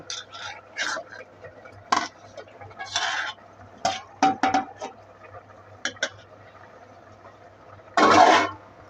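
Tomatoes and green chillies are stirred in a pan for a greens curry, with scattered scraping clinks of a utensil against the pan and one longer rough scrape near the end; faint clucking and talk sound in the background.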